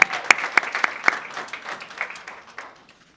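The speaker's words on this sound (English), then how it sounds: "Let's have a round of applause for the whole Northeastern Savings Bank team." Scattered clapping from a business forum audience, starting with a few sharp, distinct claps and then thinning out and fading within a few seconds.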